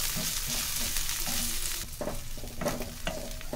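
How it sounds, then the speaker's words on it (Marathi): Vegetables for veg manchurian stir-fried in a pan over a high flame, with a close, continuous sizzle broken by repeated scraping strokes of the spatula, heard alone without voices. "मोठ्या गॅसवरच आपण हे चांगलं परतवून घ्यायचं."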